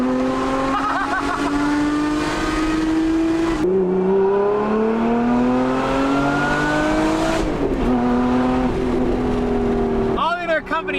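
A Lotus Emira fitted with a Valvetronic Designs exhaust pulls hard through the gears, its engine note climbing loudly with each rising pitch sweep and breaking at the shifts, while a voice talks over it.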